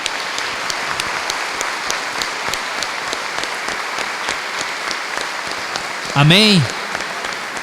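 A church congregation applauds steadily, dense clapping throughout at moderate level, with a brief sung or spoken voice rising near the end.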